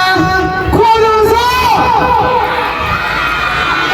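A large crowd at a live music program cheers and shouts for a singer, with voices rising into loud excited whoops that fill the whole clip without a break.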